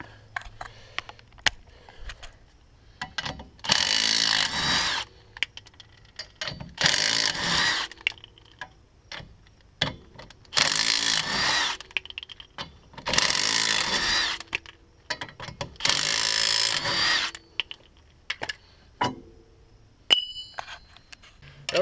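A power tool cutting a ring off a brake rotor dust shield on a Subaru Outback Sport during a brake swap, in five loud bursts of grinding with short quiet gaps between them, followed by faint clinks.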